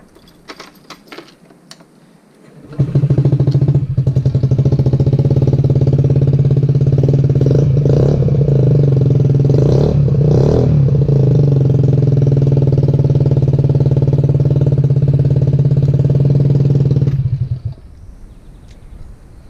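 A car engine drones loudly and steadily for about fifteen seconds during a hard acceleration pull on a car showing a check-engine light, then cuts off abruptly, with quieter background noise before and after.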